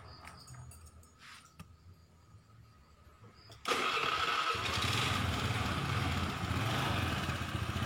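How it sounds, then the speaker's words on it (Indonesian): An old Honda Vario scooter engine, recently fitted with a new regulator, starts with a sudden loud catch at mid-clip and then settles into a steady, close idle after a quieter stretch of faint background noise. "kita akan coba nyalakan mesinnya."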